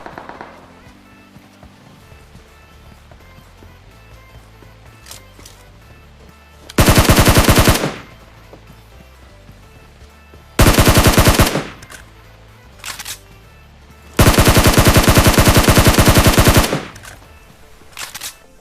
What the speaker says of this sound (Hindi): गोली चलने की आवाज आती है।